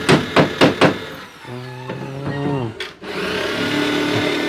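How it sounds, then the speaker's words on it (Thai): Hammering at a house construction site: a run of four loud, evenly spaced strikes, then a whirring power-tool-like drone and a steady mechanical hum, with voices faintly present. "กำลังตอกกันอยู่"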